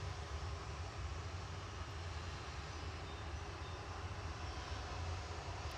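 A Swiss Airbus A220 airliner at Manchester Airport makes a faint, distant, steady engine rumble, low and even throughout with no talk.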